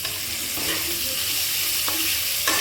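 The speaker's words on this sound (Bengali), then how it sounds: "চিংড়ি মাছ এগুলো সব মশলার সঙ্গে ভেজে নিলাম" Shrimp, banana stem and lentils fry with spices in a hot pan, a continuous close sizzle with soft stirring scrapes and occasional sharper spits, no talking.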